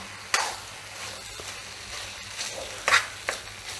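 Maggi noodles with vegetables being stirred in a pan, giving a few soft scraping strokes and faint sizzling at a quiet, close level with no talk.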